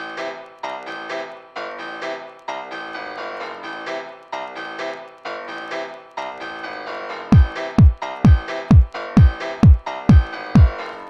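Piano chords repeat in a steady pattern with a lo-fi vinyl record effect applied, then sharp low thumping beats join in a regular rhythm beneath the keys, with no voices.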